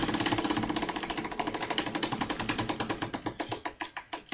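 A spinning prize wheel clicks rapidly against its pointer, the evenly spaced ticks gradually slowing and spreading apart as the wheel loses speed, up close and without talking.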